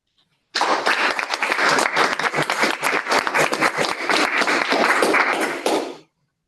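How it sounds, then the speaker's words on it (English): Conference audience applauding loudly for University of Grenoble, a dense burst of many hands clapping that starts abruptly, holds steady for about five seconds, then stops. "Give a huge applause to University of Grenoble."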